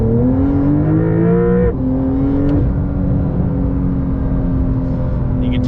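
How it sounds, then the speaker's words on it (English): A 2023 Porsche 911 GTS engine drones steadily while driving, with clear rising and shifting harmonic tones, one gear change around the second mark, and constant loud road and cabin noise throughout, no talking. "Now we're gonna go drive the car."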